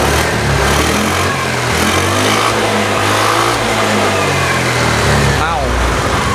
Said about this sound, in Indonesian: tanpa aki digas sudah mau